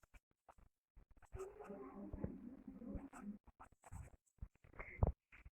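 An equation being written by hand on a board, close scratchy strokes in short bursts with small taps and pauses between, quiet and without speech.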